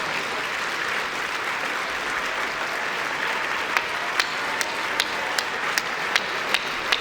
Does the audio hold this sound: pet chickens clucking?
no